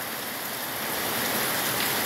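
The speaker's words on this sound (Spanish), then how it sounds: "Mira qué bonito está lloviendo, mira." Heavy rain pours steadily at a rural ranch in Guerrero, Mexico, a dense, constant hiss of drops on surfaces that holds close and loud throughout, with no voices.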